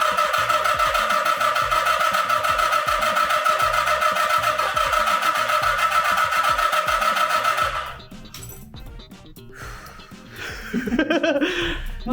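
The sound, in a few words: old car engine starting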